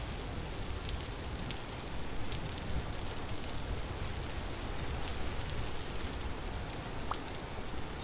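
Steady rain hisses down in the survival game Vintage Story, a dense, even wash of falling drops that holds without a break from start to finish with no voices over it.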